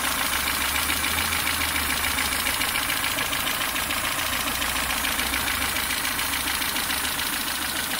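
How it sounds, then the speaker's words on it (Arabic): A Renault Clio 2 engine idles steadily and close by, with a continuous low rumble and a light ticking texture that hold evenly for the whole stretch, with no voices over it. "الصوت ديال الموتور"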